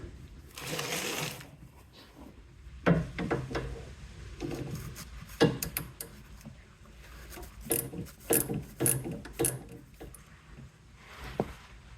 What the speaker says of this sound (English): It's a 14mm, so we'll get our catch pan, put it underneath, and get that drain plug off.